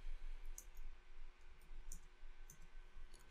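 Computer mouse clicks on a save button, several light quick taps spread across a quiet background with a low hum.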